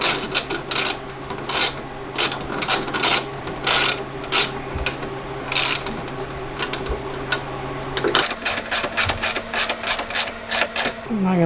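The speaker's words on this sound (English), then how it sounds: "I'm not gonna tighten it all the way." Rapid bursts of ratcheting and rasping clicks as a bolt is tightened on a rear bumper being installed on a 2020 Polaris PRO RMK snowmobile, repeated in quick strokes with short pauses, close and fairly loud.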